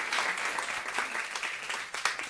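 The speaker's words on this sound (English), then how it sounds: "Round of applause." Audience applause at a food-is-medicine event, a steady, moderately distant patter of many hands clapping through the whole stretch without a break.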